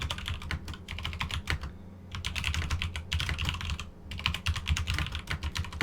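Rapid keyboard typing in bursts, with two short pauses, close and clear, with a low steady hum underneath and no voices.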